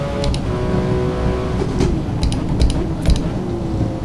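A Porsche GT Cup race car's engine in Forza Motorsport, a steady droning engine note held at a constant pitch throughout, with a few brief sharp mechanical clicks over the top.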